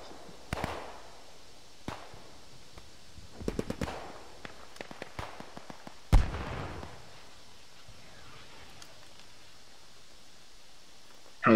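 A Panzerwerfer 42 rocket launcher fires barrages in the WWII shooter Squad 44, with scattered sharp launches and booming blasts, one heavy burst standing out, separated by quiet stretches.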